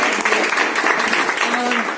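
Sustained clapping from an audience at a gathering honoring Sandeep Sir and Lata Ma'am, fairly loud and continuous, with voices mixed in.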